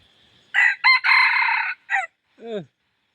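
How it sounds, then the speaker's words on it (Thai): A red junglefowl crows close by in a long, harsh rooster-like burst with short broken notes, followed by a brief lower call. "เสียงป่งคือไก่ป่านี่แหละ"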